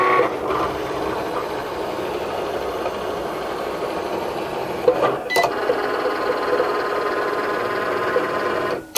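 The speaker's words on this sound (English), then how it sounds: "So the Cricut has cut all the internal details and now it's going around this outside" A Cricut cutting machine cutting an Infusible Ink design around the outside edge gives off a steady mechanical whir with motor hum, a couple of brief clicks midway, close and continuous.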